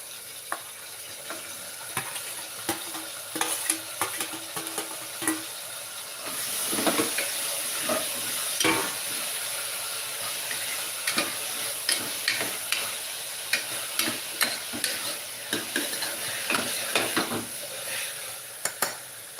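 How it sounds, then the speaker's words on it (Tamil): Vegetable kurma being stirred in a pan to keep it from sticking: a continuous soft simmering bubble with frequent clicking spoon scrapes against the pan, close by, with no talk. "அடி பிடிக்காமல் கிண்டிக்கிட்டே"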